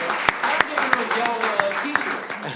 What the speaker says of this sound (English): Give him a short round of applause.